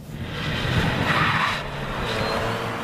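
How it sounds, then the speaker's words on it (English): A 2016 Chevy Volt spins its tires from a standstill, a loud close squealing rush of rubber on pavement that swells for about a second and a half and then eases off. "the Chevy Volt has a knack for spinning the tires from a stop"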